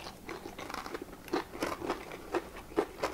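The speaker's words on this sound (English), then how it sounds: "Listen to that crunch." Crunchy bites into a Maryland crabbie filled with butter and cheese, several sharp crackling crunches close to the mouth at an uneven chewing rhythm, with no talking.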